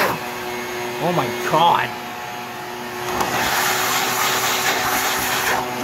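A vacuum cleaner sucks with a steady rushing whine that swells in after a short exclamation, loud and close, during a garage-style attempt at taking apart an N600 motor.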